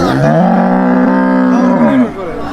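A cow lets out one long, loud moo lasting about two seconds at a rural cattle market in Manikganj, close by with faint background noise and no talk.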